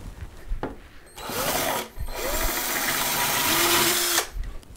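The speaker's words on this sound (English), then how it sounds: "You can see it pretty much did just melt the plastic onto the end of the drill here." A hand-held power drill bores into a plastic part under heavy pressure, melting the plastic onto the bit. It whines loudly for about three seconds, with the motor pitch rising and falling as the load shifts, and there are quieter handling noises before and after.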